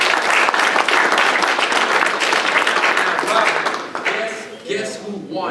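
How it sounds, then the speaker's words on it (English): An audience gives a round of applause at a talk, dense loud clapping that fills most of the stretch before thinning and fading out near the end. "Give them a round of applause."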